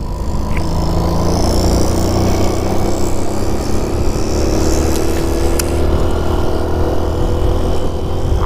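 A two-stroke motorbike engine labours steadily uphill, a loud continuous drone with a low rumble and a rising whine that holds for the whole stretch without pauses, no voices over it.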